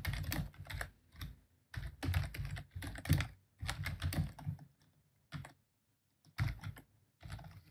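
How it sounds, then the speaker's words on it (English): Clicky keystrokes tap out in quick bursts on a computer keyboard, with short pauses between groups, recorded close and alone without speech. "if you want to conduct a poll on your stream, you simply type in the question you want to ask"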